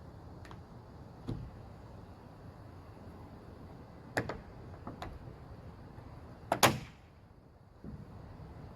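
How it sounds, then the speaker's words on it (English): A roof rail on a Ford Flex snaps free of its plastic securing clips in a few sharp, scattered clicks and pops, one louder crack near the end, over a quiet low rumble. "What you heard was the rail unclipping itself from the plastic clips that are securing the whole strip all the way across"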